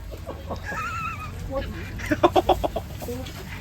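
Chickens cluck in a quick burst of short, clipped calls, with a rooster-like cry and faint background murmur around them.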